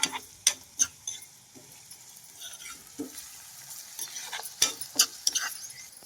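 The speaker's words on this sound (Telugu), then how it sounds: "జీలకర్ర కరివేపాకు ఉల్లిపాయలు పచ్చిమిరకాయలు వేసుకున్నాము చక్కగా ఎర్రగా అయితే వేగుతున్నాయండి ఇవి" Cumin, curry leaves, onions and green chillies fry in a pan for mutton keema curry, with a soft sizzle under intermittent close stirring clatters and scrapes.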